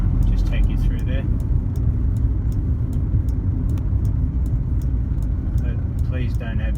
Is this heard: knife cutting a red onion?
no